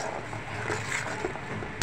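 Coriander-spiced masala paste fries and is stirred in a pan, a steady soft sizzle with faint scraping, ending in a brief louder clatter.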